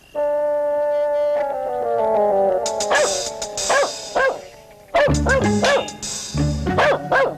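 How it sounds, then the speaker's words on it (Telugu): A dog lets out long, wavering whines and howls, then breaks into sharp, loud yips and barks nearby. "కుక్క ఎందుకు అరుస్తోంది చూడండి రా."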